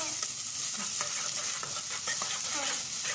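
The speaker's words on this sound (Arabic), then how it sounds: "التقليبه الحلوه نديها تشويحه حلوه كده، ندبل البصله بس في الزيت، واقوم نازله عليها بالبسله." Onion and peas being sautéed in oil, stirred with steady scraping strokes over a continuous close sizzle, with no talking.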